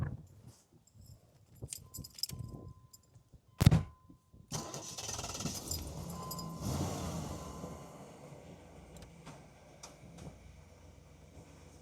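A 1988 Pontiac Firebird Trans Am GTA starts up after a few keys jangle and clicks: a sharp crank burst, then the engine catches and settles into a steady, close idle rumble.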